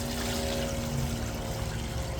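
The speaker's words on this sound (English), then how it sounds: "So I'm going to take that and pour into here." Dyed water from an exhaust pot, cooked with wood chips, pours and trickles steadily, a continuous close liquid stream with no break.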